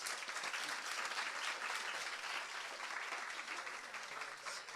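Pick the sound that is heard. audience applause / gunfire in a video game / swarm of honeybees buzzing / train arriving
audience applause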